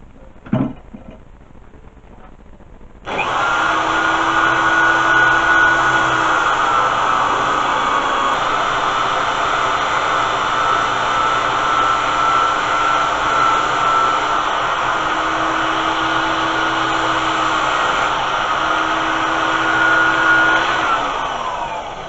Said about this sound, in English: Probably about as far as I'm going to go using the disc sander.